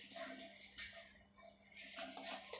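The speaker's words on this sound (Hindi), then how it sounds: "अब यहाँ पे हम इसके अंदर पानी ऐड करेंगे" Water poured into a bowl of batter made from leftover roti, a faint splashing trickle in a quiet kitchen, with short bursts of pouring and mixing.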